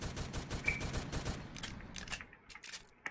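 Gunfire in the Roblox game Brookhaven comes as rapid bursts of shots, a dense fast volley that thins into a few separate cracks, faint and without talk.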